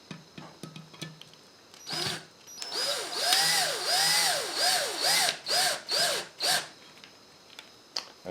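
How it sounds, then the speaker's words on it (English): A power drill set on its lowest setting drives bolts and nuts into an RC car base plate, with a series of rising and falling whirring bursts, close and loud, ending in short pulses and clicks. "I got my drill set on the lowest setting so it doesn't over tighten these bolts and nuts."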